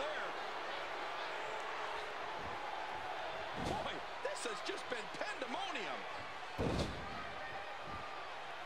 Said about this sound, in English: Big German suplex.